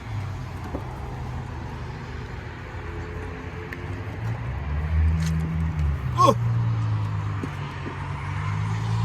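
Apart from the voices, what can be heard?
car engine running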